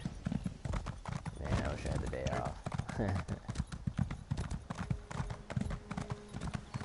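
Horse hooves clip-clop in a steady rhythm in the Elder Scrolls Online video game, heard continuously under someone talking.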